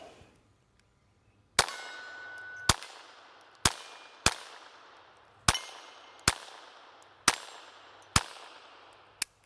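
Eight sharp, ringing shots from a Beretta Bobcat 20X .22 pistol, fired at an uneven pace about a second apart, each with a bright metallic crack and a short decaying tail, loud and close with no talking.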